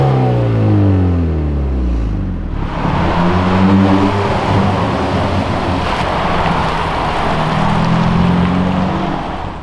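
A Hyundai i30N hatchback pulls away on an open road, engine note climbing in pitched harmonic sweeps through the gears, loud and steady under heavy wind and road rush, with a brief drop in noise partway through.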